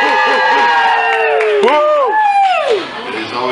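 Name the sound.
family audience cheering loudly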